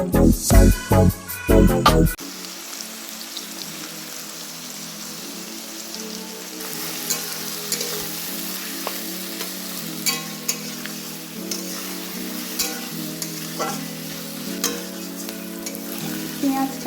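Onions frying in a pan, a dense continuous sizzle like rain on a surface with occasional stirring scrapes, close and fairly loud, after a short burst of music at the start.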